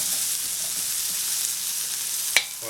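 Garlic sizzles in butter in a pan with a steady, close frying hiss, then one sharp clink of the utensil near the end as it is stirred.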